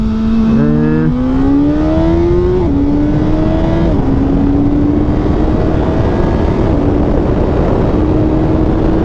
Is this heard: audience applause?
no